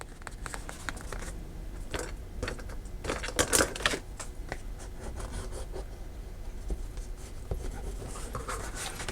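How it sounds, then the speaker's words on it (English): A bone folder is rubbed firmly along folds in junk journal paper, close and quiet with scratchy rubbing strokes and light taps, louder around the middle. "just burnishing those folds"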